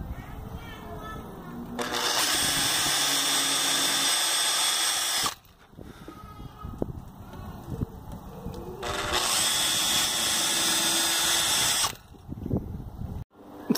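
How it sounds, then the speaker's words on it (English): A power drill whines loudly in two long bursts of several seconds each while drilling pilot holes in a trough planter, with quieter handling clatter and brief pauses between them. "Just drill some pilot holes."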